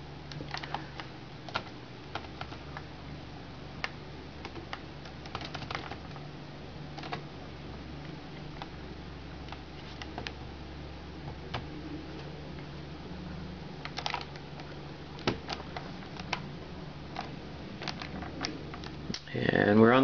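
Soft, irregular key taps as a password is typed on a Gecko Edubook netbook keyboard, quiet clicks scattered over a low hum with a louder rustle at the end.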